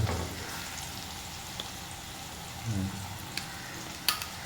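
Meat browns in a frying pan with a soft, continuous sizzle at low volume, broken by a brief stir and a couple of light clinks.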